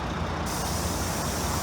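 A city bus lets out a steady, loud air-brake hiss over the rumble of its engine. The sound stays close and continuous, with no break and no voices.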